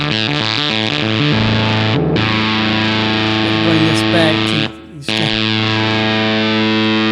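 Electric guitar runs through an Electro-Harmonix Satisfaction Plus fuzz pedal, thick distorted chords ringing loud and sustained with a brief cut near the end, and someone speaks briefly.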